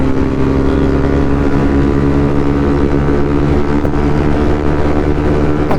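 A Yamaha WR155 motorcycle rides at night, its engine droning loudly and steadily up close with layered low harmonics and slight shifts in pitch as it pulls along, with no voices.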